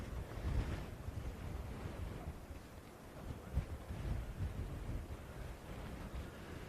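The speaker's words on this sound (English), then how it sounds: "The sun is out, but it's still cold. It's windy." Cold wind buffets the microphone in steady gusts on a sunny golf course on Scotland's west coast, with a low roar like distant surf behind it.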